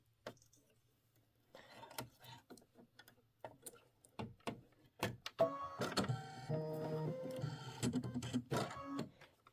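A computerized embroidery machine stitches out small quilted Christmas ornaments in sage green thread, its rapid needle ticking and whirring in uneven bursts that grow denser and louder through the second half, with no talk.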